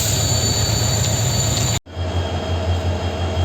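A train near Castle Rock on the Dudhsagar route in India, with a locomotive being detached: steady loud rail and engine rumble, a brief abrupt cut, then a deeper idling engine drone continuing close by.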